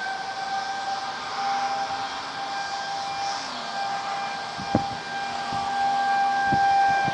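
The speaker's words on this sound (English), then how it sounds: "There go the tornado sirens." A steady tornado siren wail drones in the background during a supercell storm in Overland Park, Kansas, rising and falling faintly over wind noise, with a few low thumps near the end.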